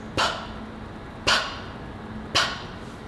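Three short, sharp puffs of breath forced through tight lips, evenly spaced about a second apart, close and fairly quiet with silence between.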